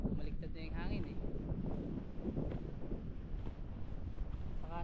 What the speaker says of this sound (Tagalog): Takas ng hangin dito guys.